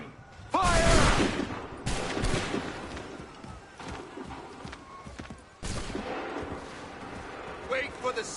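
Musket volley in Assassin's Creed III: a loud crashing fusillade fired on command, followed by further scattered shots and a second ragged volley, with rumbling noise between them.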